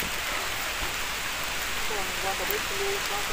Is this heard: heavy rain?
yes